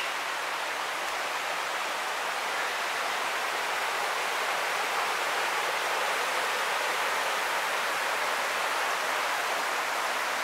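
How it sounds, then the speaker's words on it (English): A creek flows steadily behind a campsite in the Smoky Mountains during a wet backpacking trip, making a continuous, even broadband rush of running water that stays constant throughout with no voices. "So right kind of behind us, we got this creek."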